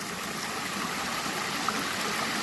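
Continuous rushing splash of a waterfall falling into a natural swimming pool, steady and close, with no talking.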